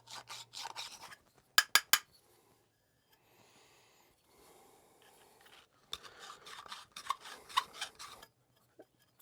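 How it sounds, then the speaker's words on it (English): A copper refrigerant line is reamed by hand, giving quiet scraping and rasping strokes in short bursts, with a few sharp metallic clicks and pauses between them. "I always think it's best to ream both sides of the copper when you have it free in your hands like this"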